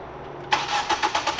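A Ford Fiesta ST engine cranks and catches, then gives a few quick rhythmic revs, close and moderately loud.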